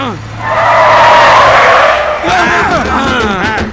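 Vehicle braking hard with a loud tire skid that swells and fades, followed by excited voices shouting over the engine and road noise.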